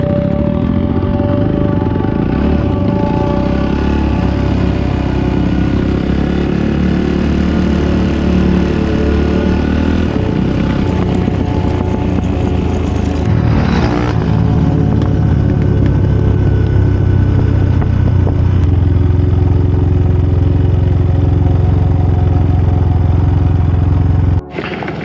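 A steady, loud enduro motorcycle engine runs close by throughout, a dense low rumble with shifting revs and a brief surge midway, no talking, cutting off sharply at the end.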